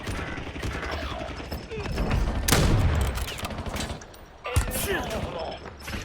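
Gunfire in the battle royale game Call of Duty Warzone, a fusillade of shots and mechanical clatter at moderate loudness, with a sharp burst near the middle and game voice lines over it.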